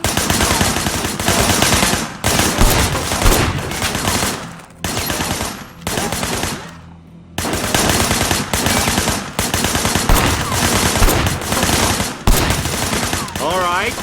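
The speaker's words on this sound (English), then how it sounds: "I want you to put some bullets in a few things." Gunfire in the video game Sleeping Dogs: loud, dense bursts of automatic shots crackle through most of the stretch, with short pauses, while a voice speaks briefly in places.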